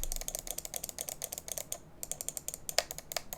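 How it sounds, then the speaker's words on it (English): A HyperX Pulsefire FPS Pro gaming mouse is clicked rapidly and repeatedly, giving crisp, sharp, close clicks in an uneven rhythm with a brief pause midway. "The clicks are pretty nice."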